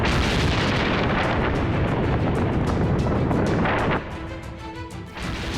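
A huge, continuous roaring blast from a Spice 2000 guided bomb explosion fills the whole stretch, loud and broadband, dropping somewhat toward the end as the rumble fades.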